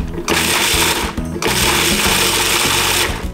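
A food processor whirs loudly in two brief bursts blitzing passion fruit, with a pause between, the motor's grinding buzz filling the short clip.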